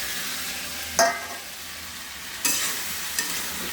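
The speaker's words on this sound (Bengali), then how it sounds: "এই তো মশলা ময় মশলা সব কিছু দিয়ে দিয়েছি এখন কষাচ্ছি" Koi fish pieces coated in spices fry in hot oil with a steady close sizzle, broken by three scraping stirs of a spatula against the pan.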